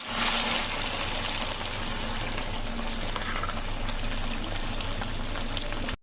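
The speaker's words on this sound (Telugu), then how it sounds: "ఇందులో కట్ చేసుకున్న శామగడ్డ పీసెస్ వేసేసుకుందాం" Cut shamagadda pieces frying in hot oil in a pan, a loud, steady, close sizzle and crackle that holds throughout before cutting off at the end.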